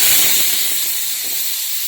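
Small onions and chilies sizzle in hot oil in a village kitchen, a steady close hiss and crackle that is loudest at the start and eases slightly, with scattered pops and no talking.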